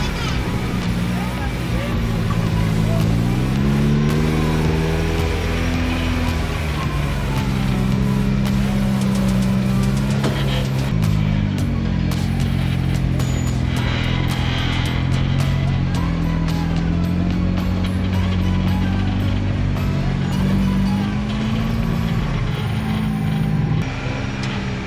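An off-road vehicle engine labors steadily up the first crack-filled rock obstacle on a trail at Trail Hero 2023, its revs rising and falling continuously, with faint crowd babble in the background.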